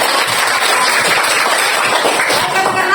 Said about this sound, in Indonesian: Tepuk tangan dulu buat Tuhan.